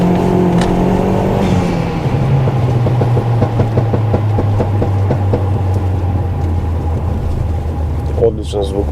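An Audi A3 8L engine runs with a deep, steady drone carrying clear tonal harmonics. The pitch drops early and then holds an even, close hum, with a brief rasp near the end.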